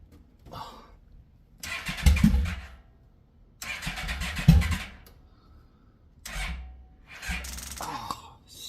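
A Yamaha Royal Star motorcycle that has sat for two years cranks in several separate attempts with the choke on, each a few seconds of laboring turnover without catching, with quiet pauses between.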